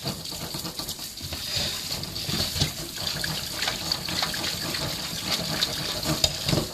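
Hot tap water runs over yams being rinsed in a kitchen sink, a steady close splashing stream mixed with clattering handling noises.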